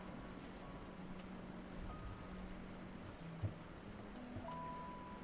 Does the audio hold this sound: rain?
yes